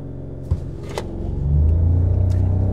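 A 2024 Toyota Yaris launches hard from a standstill, its engine rising into a steady, loud rumbling rev after a couple of brief clicks, heard from inside the cabin without talk.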